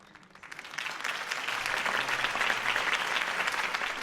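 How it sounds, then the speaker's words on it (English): Crowd applause in a Batman video game breaks into sustained clapping that swells quickly and continues steadily, with dense clapping throughout. "could have heard that applause"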